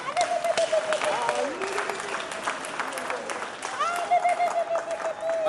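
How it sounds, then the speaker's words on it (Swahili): An audience rises and applauds to welcome a retired bishop, chairman of the Gema Cultural Association, at a community celebration: steady, dense clapping from a crowd throughout, with voices and faint tonal sounds mixed in. "Tusimameni na mtumpigie makofi."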